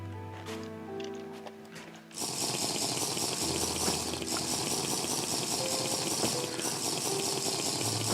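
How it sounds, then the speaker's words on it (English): A video game character drinks water, steady liquid gulping and sloshing that starts abruptly after a couple of seconds of quieter game music and continues loudly to the end. "Oh look, I'm dehydrating. That's lovely. Let me drink."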